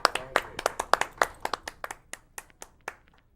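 Live audience clapping at a band's show, a short burst of sharp, separate claps that starts fairly dense and thins out steadily to scattered single claps over a few seconds.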